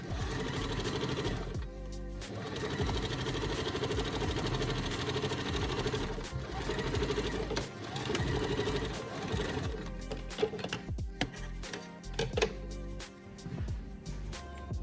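A new home sewing machine stitches a drawstring cloth bag with a continuous loud mechanical whir and rapid needle clatter, pausing briefly a few times and ending with irregular clicks and knocks.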